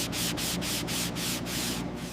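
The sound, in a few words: sanding body filler on classic car panels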